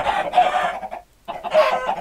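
Minecraft chickens clucking in a blocky game world, two loud bursts of squawky clucks separated by a short gap, close and clear with no talking.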